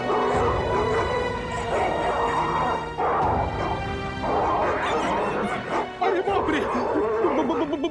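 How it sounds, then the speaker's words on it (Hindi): Several dogs bark and whimper in quick overlapping bursts close by, mixed with voices talking over the commotion in a tense TV crime drama scene. "कुत्तों के भौंकने की आवाज पीछे की तरफ से आ रही है।"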